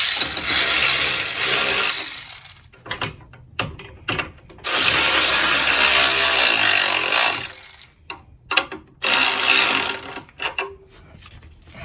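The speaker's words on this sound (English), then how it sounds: "Now we'll get ready to tighten these bolts." A ratchet tightens bolts on a Nissan in bursts of rapid clicking, loud and close, with long runs broken by short pauses and quick clicks between them. No one talks.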